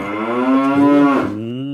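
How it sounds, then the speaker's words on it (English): A cow moos loudly and close, one sustained, resonant low call lasting nearly two seconds, sliding slightly in pitch before fading out. "I hear the cow sound now"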